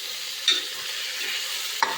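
Ginger, garlic and carrot fry in a pan for vegetable pulao, a steady soft sizzle with two brief clinks or stirring scrapes standing out.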